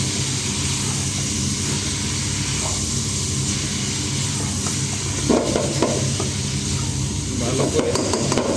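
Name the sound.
sliced potatoes with bitter gourd frying and stirred in pan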